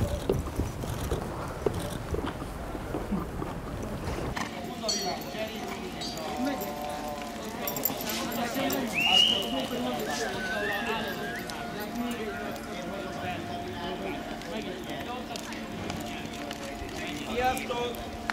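Horses run about in a paddock, their hooves thudding and clip-clopping at a moderate distance beneath steady talking that continues over the whole stretch.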